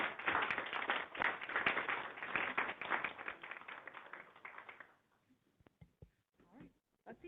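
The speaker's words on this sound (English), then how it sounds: "Let's give a round of applause for them." An audience applauds after an invited lecture, a dense, steady burst of clapping for about five seconds that quickly dies away into quiet with a few scattered sounds.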